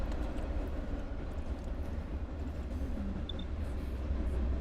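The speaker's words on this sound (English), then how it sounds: "There's just a train. This is a train right there." A train rolling past just outside an open door beside a room, a steady low rumble and rolling drone holding level throughout, close and continuous, with no talking.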